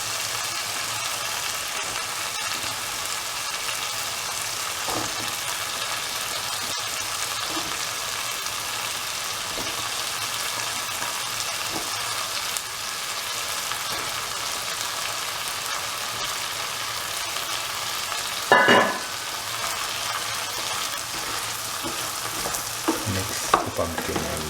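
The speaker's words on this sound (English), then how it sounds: "Mix the pumpkin and the minced meat and the other ingredients in the mixture thoroughly." Pumpkin and minced mutton are stirred in a frying pan, a steady, close sizzling broken by the scrape and clatter of a utensil, with one sharper knock near the end and no talking.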